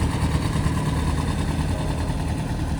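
A Porsche 356, the winning car at a concours event, idles with a steady, even mid-pitched engine burble, constant and fairly close throughout, with no talk.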